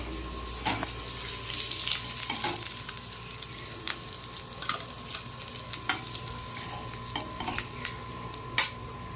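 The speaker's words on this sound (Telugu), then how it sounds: "ఎండు చేపలు కూడా చక్కగా ఫ్రై అయ్యి తీసేసుకుందాం" Dried fish fries in a pan with a steady close sizzle, broken by intermittent scraping and stirring knocks against the pan.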